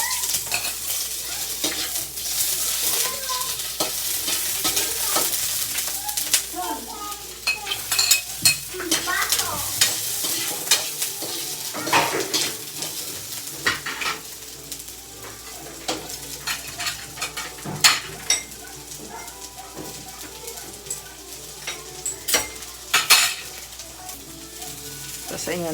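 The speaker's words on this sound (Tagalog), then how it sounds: "gigisa ko na yun" Food sautéing in a pan for adobo-style Baguio beans with chicken liver and gizzard, a steady loud sizzle with frequent clinks and scraping of a utensil stirring against the pan, continuing throughout.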